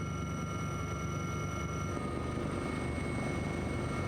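A steady, loud coast guard helicopter drone over the sea near Incheon, with constant rotor and engine noise filling the whole stretch, with no voices.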